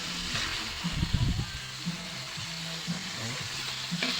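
Dinuguan, a pork blood stew, sizzling and bubbling in a pan, a continuous soft frying hiss with stirring clatter near the start, heard under a speaking voice.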